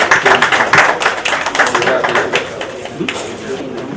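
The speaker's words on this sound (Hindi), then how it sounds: "जोरदार ताली के साथ स्वागत करें।" Steady clapping from a crowd at a farewell party, a dense patter of many hands, fading somewhat toward the end with a voice faintly heard beneath.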